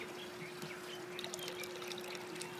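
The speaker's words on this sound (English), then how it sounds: "the water is going to flow up and over that and come out through here, and it's going to create a siphon" Water from a pump pours steadily into an aquaponics grow bed fitted with a bell siphon, a continuous close trickle and splash with no voices.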